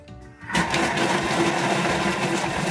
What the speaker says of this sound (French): Je vais tout d'abord hacher mes oignons